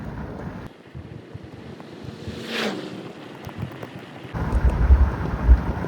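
Gusting wind blows outdoors at Carolina Horse Park, buffeting the microphone with rumbling, hissy noise that swells louder toward the end.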